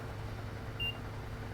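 A single short electronic beep from a train cab control in the Train Sim World 4 simulator, heard once about halfway through over a steady low cab hum.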